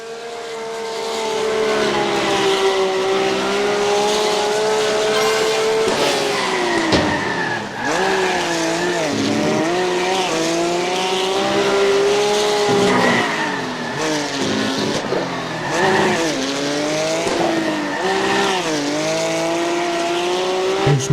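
A race car in iRacing Arcade drives hard in the game, its engine note holding steady and then rising and falling through gear changes and corners, with tire squeal as it brakes and turns.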